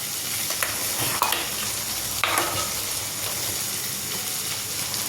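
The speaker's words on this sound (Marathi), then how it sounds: "छान तेलामध्ये तळलं जातात" Drumstick pods fry in hot oil for a Marathi besan and drumstick curry, a constant loud sizzle with occasional scraping and knocks of a utensil in the pan.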